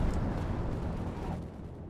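A B-4 howitzer fires a barrage in Company of Heroes 2, a deep rolling boom that swells at once and fades slowly over low battlefield rumble.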